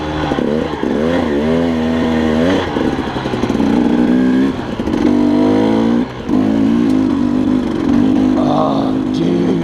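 A 2014 KTM 300 XC two-stroke dirt bike engine revs up and down repeatedly, loud and near, with rising and falling blips between a rough idle.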